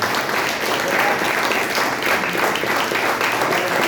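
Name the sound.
church congregation applauding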